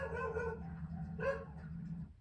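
Hill dogs outdoors give a couple of muffled barks, distant and faint over a low steady rumble.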